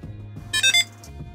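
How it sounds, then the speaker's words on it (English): A Samsung Galaxy SmartTag2 Bluetooth tracker gives a short activation chirp of bright, high tones once, a quick double-toned beep against a quiet, humming room. "you should hear a beep."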